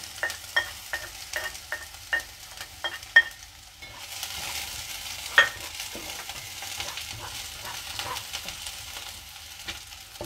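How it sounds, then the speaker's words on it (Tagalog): Ginger, onion and garlic sautéing in a pan, with a steady soft sizzle and a string of sharp, rhythmic stirring scrapes and clinks from a spatula, then a denser, more continuous fry. "Igisa na natin."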